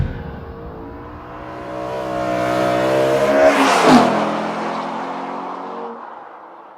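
BMW M3 driven hard on a race track, engine revving and rising in pitch as it approaches, peaking loudly as it passes close by, then fading away.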